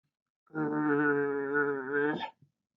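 A person imitates a dog's low growl with a single sustained, throaty voiced rumble lasting under two seconds, alone and close.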